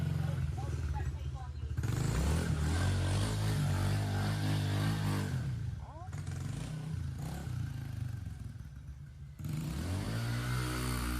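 A motorcycle revs hard while spinning donuts, its engine roaring loud and close in sustained surges that dip and climb again, with people talking over the noise.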